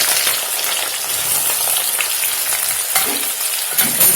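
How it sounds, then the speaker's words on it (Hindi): Onions frying in hot oil for a matar paneer curry, a steady broadband sizzle that holds loud and close across the whole stretch, with a few faint scrapes of stirring. "प्याज को फ्राई कर लेंगे"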